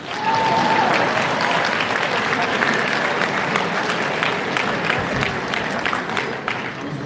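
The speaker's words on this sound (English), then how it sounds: "Please clap because I got those right." Sustained audience clapping at a live community event, a dense crowd of hands applauding steadily and fairly loudly throughout, with faint voices mixed in.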